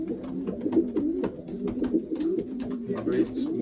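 Racing pigeons in a loft during pairing season, cooing in repeated low rhythmic phrases, close and moderately loud, with soft rustling and clicks in between.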